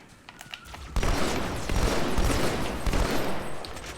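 Dense gunfire in Halo 2, a sustained burst of rapid shots that starts abruptly after a quiet moment and keeps going loud and continuous.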